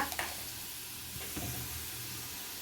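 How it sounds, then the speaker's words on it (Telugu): Urad dal, chana dal and dried chillies sizzling in hot oil, a soft steady frying crackle with a few brief pops near the start. "మినప్పప్పు శనగపప్పు మిరపకాయలు వేసేస్తున్నాం"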